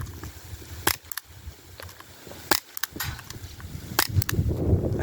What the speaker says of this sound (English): So this is a BB gun. It's a BB gun. It fires BBs.